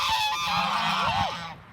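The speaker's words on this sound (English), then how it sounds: "And then there's a grey goose" A grey goose at a dairy farm gives a loud, close honk, a harsh nasal call lasting under two seconds over faint outdoor background.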